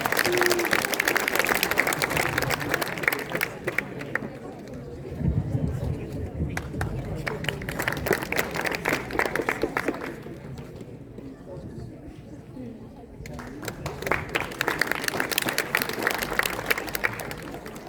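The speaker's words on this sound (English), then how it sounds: "Give him a big hand." A crowd at a debate breaks into applause, fades under talking, then swells again near the end.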